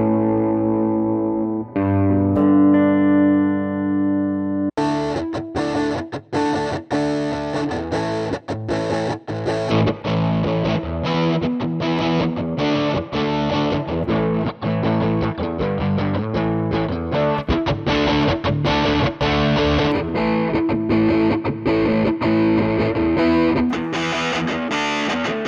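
An electric guitar through a free amp simulator plugin: a few cleaner notes, then heavily distorted chugging riffs and chords with a touch of reverb.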